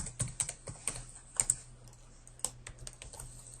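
A campus ID and password are typed on a computer keyboard: a short, irregular run of light, close key clicks, a few harder taps standing out over a quiet room hum.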